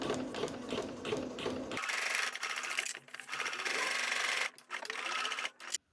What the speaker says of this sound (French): Et je viens passer une couture à 1 cm du bord.